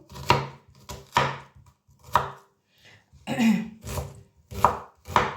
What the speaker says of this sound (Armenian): արդեն սոխն եմ կտրատում